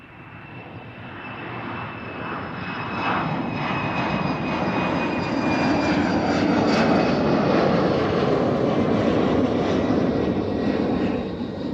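Cessna Citation business jet taking off at Amsterdam Schiphol, a rising jet roar with a thin high whine on top, growing louder and holding strong near the end, alone without voices.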